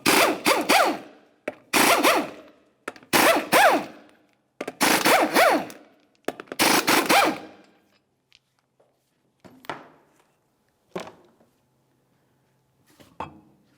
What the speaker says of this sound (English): go ahead and remove all 5 of your 19mm lug nuts and then the wheel